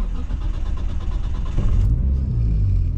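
Nissan Skyline with an RB25 engine fires up and settles into idle, a close, loud engine rumble that swells briefly partway through and then holds a steady idle.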